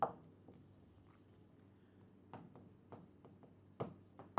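Pen strokes scratch across paper in short, quiet bursts, with brief pauses and a few louder taps between them, close up and alone.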